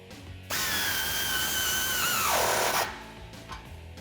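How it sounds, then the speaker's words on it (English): Power tool with a 15mm socket tightening an exhaust clamp on a 2019 RAM 1500 5.7L HEMI with a Borla ATAK dual exhaust, a close whirring burst of about two seconds whose pitch drops as it binds, then stops. "Grab your 15mm socket and tighten down your clamp."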